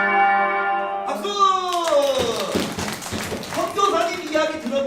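Children at a church Sunday school clap together, a dense, lively burst of applause mixed with young voices, following a short stretch of an adult's speech at the start.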